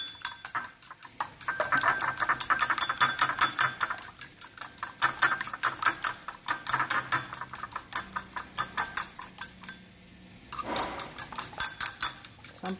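Rapid metallic clinking of eggs being whisked in a bowl for salted pumpkin sticky rice, a fast steady rhythm close up that pauses briefly before resuming.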